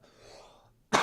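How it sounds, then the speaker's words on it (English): A single loud, close cough bursts out sharply at the very end, after a quiet stretch of faint background noise. "at some point I'm really going to have to cough"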